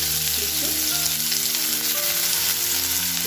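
Chopped onions frying in hot oil in a wok make a loud, dense, steady sizzle, close up, with faint stirring and no voices.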